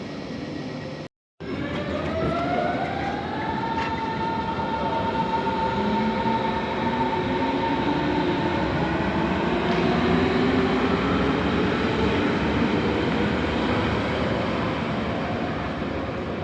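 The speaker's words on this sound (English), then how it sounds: "I love the S-Bahn noise." A Berlin S-Bahn train at Friedrichstrasse running with a continuous loud rumble and rising and falling motor whine, heard from on board or nearby with a brief drop-out near the start and no talk.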